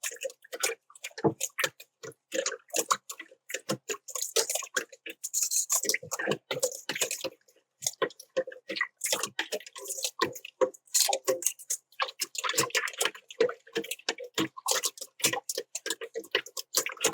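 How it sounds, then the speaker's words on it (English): A whisk beats a bourbon mixture for homemade donuts, producing a long run of quick, uneven clicks and taps close by, with brief pauses between bursts. "Then we're going to take a whisk and whisk this up together."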